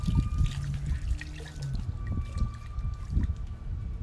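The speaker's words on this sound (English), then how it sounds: "And then you want to go through and wring it out so it's just damp." Water trickles and drips from a damp Norwex mop pad being wrung out, a soft irregular patter of drops running steadily close by with no talk.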